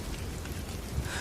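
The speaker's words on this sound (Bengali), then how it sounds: "ঝিরিঝিরি বৃষ্টি পড়ছে।" Light drizzling rain used as a story sound effect, a steady soft patter of fine drops heard alone and at a low level throughout.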